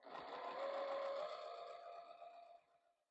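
A sewing machine runs steadily for about two and a half seconds, stitching a small rice-filled scrap-fabric hand warmer, a close whirring hum that slows and stops.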